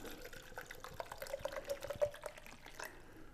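About eight ounces of water is poured into a container to make an injection for competition barbecue chicken thighs, a faint liquid trickle with light splashes over a few seconds.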